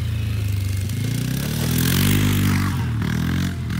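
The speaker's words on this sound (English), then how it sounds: "I'm running the three-wheeler." A three-wheeler motorcycle engine runs steadily up close, its low throbbing drone rising briefly as if revved before easing off, with some scraping and clatter mixed in.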